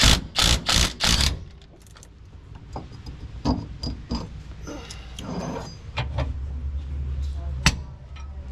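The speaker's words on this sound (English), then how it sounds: "I'd still be on the second bolt if I wasn't using an impact right now" An impact wrench loosening bolts on a Nissan 350Z drift car, with several loud rattling bursts in quick succession at the start, then quieter mechanical clatter and clicks in a garage.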